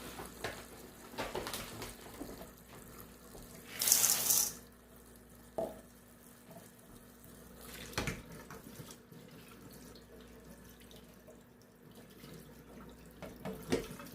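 Cow corn rinsed under a running tap in a sink, a steady stream of water with splashing and a louder gush partway through, close and continuous with a few knocks.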